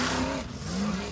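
A 900-horsepower race car engine revs hard and close at an extreme 4x4 challenge event, its pitch dipping and rising again in a continuous loud roar.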